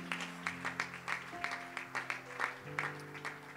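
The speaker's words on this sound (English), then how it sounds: "Let's give a hand clap to the Lord right now." A church congregation claps along during a celebration service, quick rhythmic claps rising and falling in bursts, fairly quiet and somewhat distant, with a sustained organ or keyboard chord held underneath.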